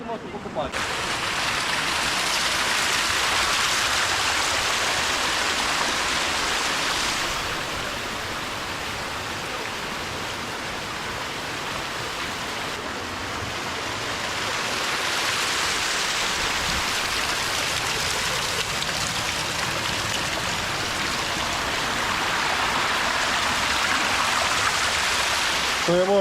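A constant roar of rushing water from a waterfall in the Carpathian Mountains fills the air, swelling and easing slightly over a long, unbroken stretch.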